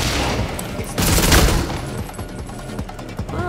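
Rapid bursts of gunfire from the shooter game Redfall crackle close and loud, one dense volley followed by scattered sharper shots, with no talking.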